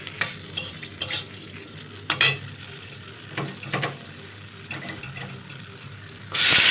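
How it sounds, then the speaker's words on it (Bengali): Mustard seeds and dry chillies temper in hot oil in a wok, with scattered crackling pops and scraping stirs, then a sudden loud hiss of sizzling at the end. "তেলটা আমার ছিল কড়াইতে এখানে সর্ষে শুকনো লঙ্কা ফোড়ন দিলাম"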